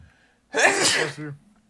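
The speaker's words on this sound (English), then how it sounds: "Hold on, I have to sneeze." A single loud sneeze bursts out after a brief quiet inhale, followed by a short trailing breath.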